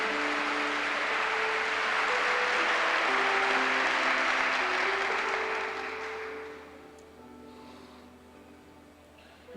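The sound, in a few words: church congregation applauding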